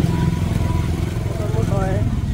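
A motorcycle engine drones nearby as it passes, a steady mid-pitched buzz with a rising whine near the end, partly under people talking.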